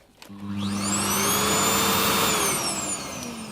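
AEG UltraCaptic cordless vacuum cleaner switching on and running, its motor whine climbing in pitch and settling into a loud, steady roar with a high whistling edge, close up and without talk.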